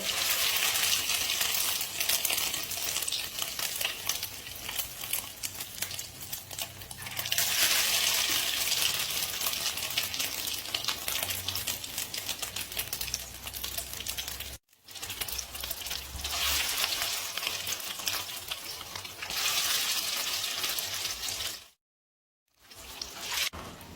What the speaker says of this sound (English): Now add egg battered patty into the oil.